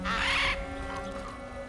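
A crow caws once loudly in God of War Ragnarok, a harsh burst at the start followed by a softer, lingering call over a steady hum of game ambience.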